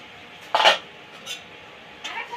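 A metal lid lifted off a pot of simmering spinach-and-vegetable ghonto in a home kitchen, a sharp clattering clink followed by two lighter metallic taps, close and isolated with no talking.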